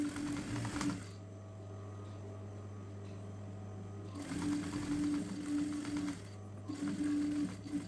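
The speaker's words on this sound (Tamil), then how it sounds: "இந்த சுடிதாருக்கு இந்த லைனிங் சைடில் ஸ்டிச் போடுறோம்." A sewing machine stitches the side seam of a churidar top, joining its lining to the fabric, running in steady bursts of close mechanical whirring with brief pauses between runs and no talk.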